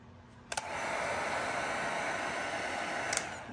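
A heat gun blows steadily on chrome delete vinyl on a Mercedes-Benz front grille, switched on with a click and running as a close, even airy roar for about three seconds before clicking off.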